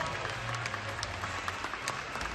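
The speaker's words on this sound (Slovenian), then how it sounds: "Zaključni aplavz za oba plesna para." Closing applause from an audience at a national dance championship in Ptuj for two dance couples, a steady dense wash of clapping at moderate level throughout.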